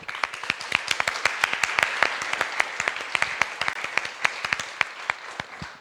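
A smaller conference audience at a political talk claps, with distinct, closely spaced individual hand claps over a soft wash of applause that thins toward the end.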